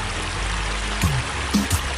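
A river runs over stones near Cali, Colombia, a steady close wash of flowing water with a few brief gurgles and splashes standing out, and no voices.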